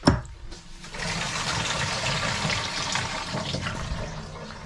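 Water gushes into the kitchen sink of a converted camper van, a steady close rushing flow that starts after a brief thump and stays strong throughout.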